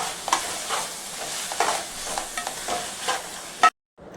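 Prawns being stirred in a curry pan with ridge gourd, giving repeated scraping spoon strokes over a steady frying sizzle, close and fairly loud, before an abrupt cut to silence near the end.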